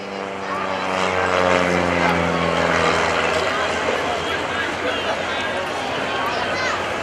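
A Van's RV propeller airplane drones loudly overhead at the 2014 NAS Oceana Airshow, its engine hum steady and close throughout.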